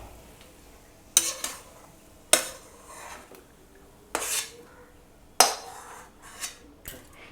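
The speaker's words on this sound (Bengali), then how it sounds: "এবার আবারও একটু ভালো করে মিশিয়ে নেব পুরো পুরের সাথে" Coriander leaves are stirred into a breakfast filling in a pan, heard as several separate scraping, clattering strokes of a spoon against the pan spaced about a second apart, over a faint low background hiss.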